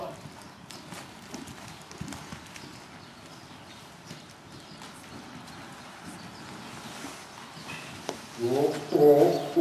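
Horse hooves striking the ground on a jumping course during a riding clinic, a steady muffled rhythm of footfalls at moderate distance, with a voice calling out near the end.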